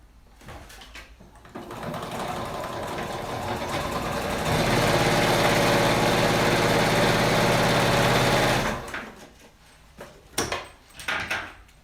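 A sewing machine stitches a fabric pouch in a steady mechanical hum that builds over a few seconds, holds for about four seconds, then stops, followed by soft handling clicks.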